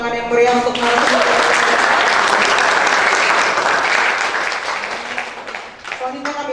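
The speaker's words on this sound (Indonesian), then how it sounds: "mari beri tepuk tangan yang meriah untuk narasumber" An audience at a youth pledge discussion event applauds the speakers with sustained, dense clapping for several seconds that gradually fades; a voice speaks at the start and end.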